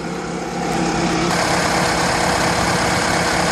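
A 1936 MG PB engine in great condition idles steadily and close by, a smooth continuous rumble that swells slightly after the first half second and holds even.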